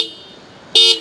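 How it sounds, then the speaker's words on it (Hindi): The dual-tone horn of a 2021 Bajaj Pulsar 150 twin-disc motorcycle gives one short, loud, bright beep after a moment of quiet. "तो इसमें डुअल टोन हॉर्न मिल जाता है जो कि काफ़ी ज़्यादा लाउड साइड में"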